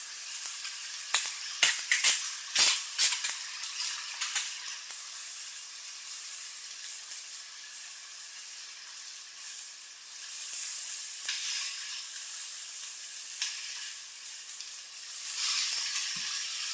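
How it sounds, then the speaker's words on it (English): A steak pan-frying in a hot pan gives a loud, continuous close-up sizzle, opening with a few sharp crackles and pops before settling into a steady hiss. "This is just a really quick down and dirty pan frying of a steak."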